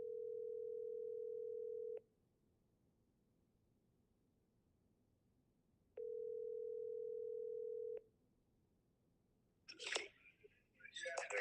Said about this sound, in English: Let me make this phone call.